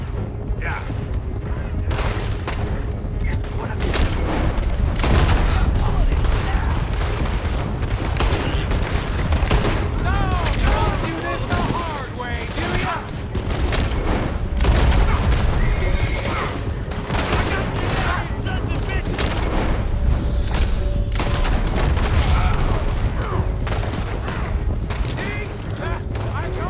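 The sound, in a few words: gunfire during a stagecoach robbery, from video game Red Dead Redemption 2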